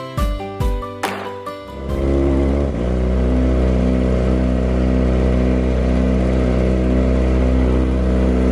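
A Honda Tiger motorcycle engine starts up and settles into a loud, steady rumbling idle close by, following a few short bursts of music at the start.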